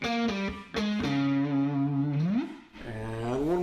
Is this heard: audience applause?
no